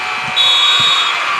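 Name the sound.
basketball game-ending buzzer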